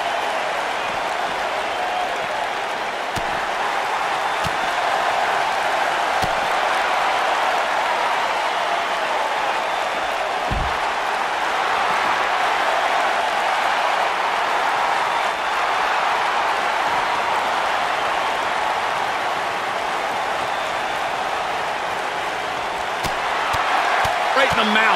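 Arena crowd in the WWE 2K19 wrestling video game, a sustained, loud roar of massed voices that holds steady throughout, with a few faint thuds underneath.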